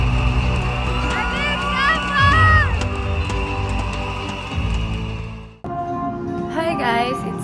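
A crowd shouting and cheering at an awarding event in the MOA Arena, loud sustained cheers and screams that swell and then cut off, followed by a short burst of excited voices.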